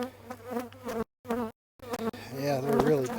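Honeybees buzzing at a freshly opened, packed hive in spring, a steady close hum with brief dropouts of near silence partway through.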